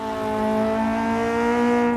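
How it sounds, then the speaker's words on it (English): A race car engine in the video game Assetto Corsa EVO revs with a steady, resonant exhaust drone that holds at a constant pitch for about two seconds, loud and close. "that was me testing the revs"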